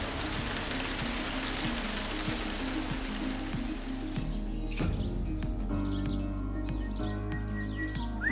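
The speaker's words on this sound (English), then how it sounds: "the way that the rain falls through the leaves, sliding down the trunks of trees" Rain falls through leaves and runs down tree trunks in a garden, starting as a dense, steady patter, then thinning to scattered close drips while birds chirp softly in the background.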